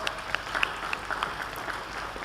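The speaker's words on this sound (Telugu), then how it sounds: "చప్పట్లు కొడదాం, తనకివ్వండి." Applause from a church congregation during a sermon, a soft, fairly distant patter of clapping hands that holds steadily for a couple of seconds with no voices over it.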